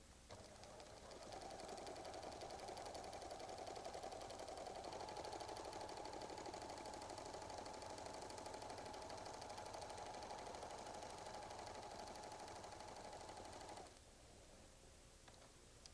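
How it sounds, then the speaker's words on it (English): A Pfaff Creative 1475 sewing machine stitching a narrow zigzag around a cutwork design line, a steady even mechanical hum running for about twelve seconds before stopping, close and faint overall. "Our first step with cut work is to stitch around our design line with this narrow zigzag stitch."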